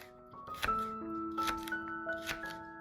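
A knife cuts celery into angled slices about 1.5 centimeters thick on a board, making a few crisp, separate chops close by over soft background music.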